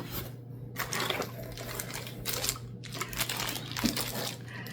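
Continuous crinkling and rustling of a plastic package bag being handled and torn open close by, with irregular crisp bursts over a steady low hum.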